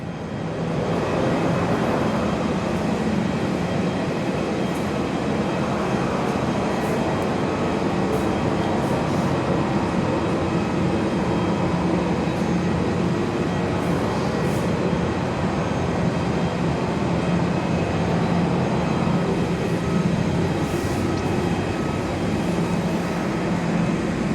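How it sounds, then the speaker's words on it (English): A Virgin Australia Boeing 737-700 taxis out for takeoff at Perth Airport, a steady broadband jet roar and rumble heard from an indoor viewing platform, continuous and unchanging with no talking. "A Virgin Aussie 737-700. It is taxiing out for takeoff."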